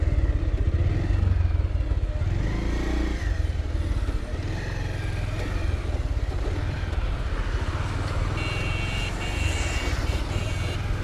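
Motorcycles and other vehicles rumble along NH 66 at Alappuzha, where the road is being widened. Engine drone and clatter stay loud and close throughout, and a motorcycle passes by.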